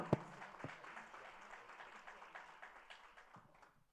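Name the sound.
audience applause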